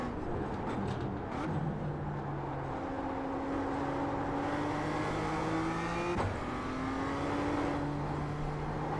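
A Mazda MX-5 Miata race car in the iRacing sim drones steadily throughout, its engine tone rising and falling with throttle and shifts, a faint tire squeal and brief transient near the middle, with no talking.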